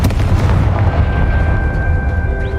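A deep, booming blast from the Confringo explosion spell in the video game Hogwarts Legacy, loud and rumbling, followed by a fading tail of crackling debris and a thin high magical tone.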